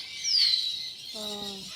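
A large red parrot gives a short, clear call followed by a second harmonic squawk, close and fairly loud, with faint background around it.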